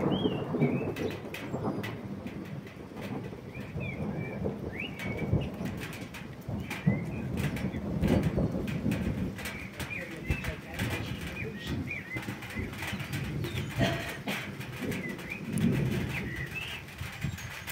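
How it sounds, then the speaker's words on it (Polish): Birds sing and pigeons coo outdoors during light spring rain, with a distant rumble of thunder; chirps and coos repeat throughout over a steady wash of rain and wind, with occasional rustling nearby. "jak taki deszczyk popada i te ptaki śpiewają"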